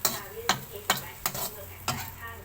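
Mussels are stir-fried in oil with a soft, steady sizzle, broken by five regular scraping strokes of a spatula against the pan, heard up close with no talk.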